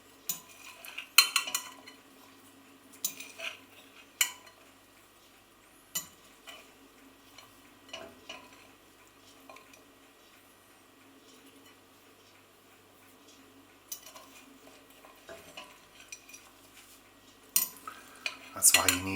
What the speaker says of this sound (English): I'm just turning the spoon.